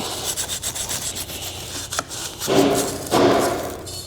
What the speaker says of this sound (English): Sometimes I just take a Scotch pad to the backside, like on a sander.